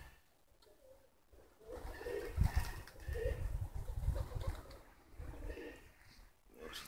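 Pigeons perched and preening coo softly in a short low burst amid faint outdoor ambience, with a quiet rustle of movement.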